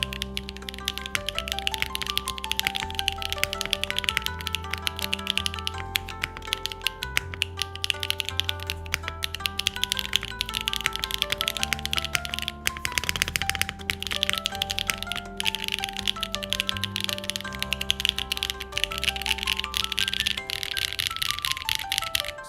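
Dense, steady typing on an HMX K01 keyboard with Light Tactile switches and no foam, a continuous clatter of keystrokes alone with no talk, close and even in level, over a soft musical bed.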